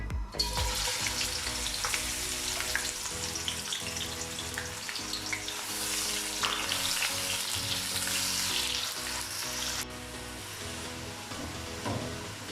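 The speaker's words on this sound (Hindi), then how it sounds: "अब इसमें प्याज ऐड करेंगे और इसे 2 से 3 मिनट के लिए फ्राई कर लेंगे।" Steady, dense sizzling of onions frying in hot oil, with occasional stirring scrapes throughout; no voices.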